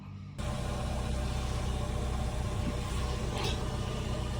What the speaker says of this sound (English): Let's start the car up, make sure there's no exhaust leaks here